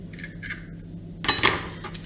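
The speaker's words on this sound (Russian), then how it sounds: "Сюда же мы вбиваем яйцо" An egg is cracked into a bowl of whipped butter mixture for children's shortbread button cookies, giving a couple of light taps and then a sharp, close crack with a brief clatter in a quiet kitchen.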